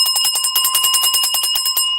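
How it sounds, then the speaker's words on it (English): A bell rings loudly in a fast, even run of about a dozen bright strikes with no pause, then stops abruptly. "I'm going to ring the bell"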